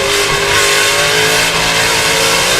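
NASCAR stock cars race hard at New Hampshire in the 2007 Sylvania 300, a loud, continuous roar of engines at full throttle with no break and no voices on top.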